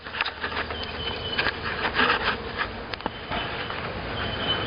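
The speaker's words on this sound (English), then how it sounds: "the Lithonia bees are in place" A swarm of honeybees settling into a new hive in Lithonia, Georgia, buzzes steadily and close by, with individual bees droning past in and out of the dense hum; no voices.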